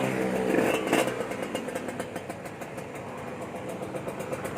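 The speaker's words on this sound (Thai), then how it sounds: "โอเคฟังเสียงเครื่องก่อนนะครับ เครื่องพ่นเงียบนะครับ" A motorcycle engine idles steadily with a low, even rumble and a faint rhythmic ticking, close by, with a quiet exhaust and no voices.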